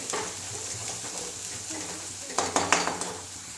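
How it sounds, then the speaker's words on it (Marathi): Kharda sizzles gently as it is sautéed and stirred in a pan, with a low continuous fry and a few sharp scraping clacks of the spoon near the end, close by and without speech. "स्मेल येईपर्यंत त्याला असं परतवत राहायचं."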